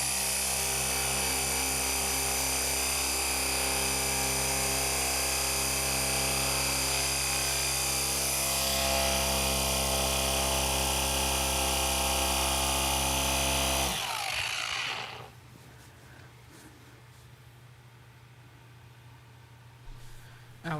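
A machine polisher buffs a scratch out of Techno Violet paint on a BMW G80 M3 50 Jahre Edition, running as a loud, steady drone for about fourteen seconds before cutting off abruptly to quiet.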